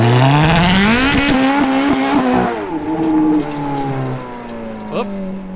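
A Ferrari F430 launching at full throttle with traction control disabled, its engine revving sharply upward as the rear tires spin and squeal, then the pitch settling and fading as the car pulls away.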